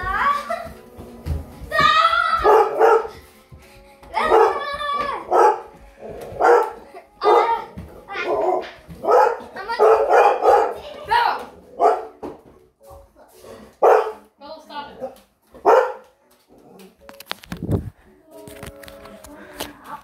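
A pet dog barking in a home, the barks mixed in with frequent close talk and a voice, with a few short louder bursts through the middle.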